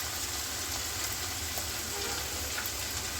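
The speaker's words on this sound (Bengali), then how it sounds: "এবার আমি চিকেনটা দিয়ে দিব।" Hot soybean oil with butter and spices sizzles in a steady, close, even hiss for chicken soup, just before small chicken pieces go in; no one speaks.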